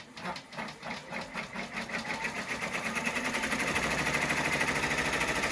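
An embroidery machine stitching an in-the-hoop teddy through thick layers of fabric, a steady rapid mechanical whirring and rattling that builds and settles into an even, close, continuous hum.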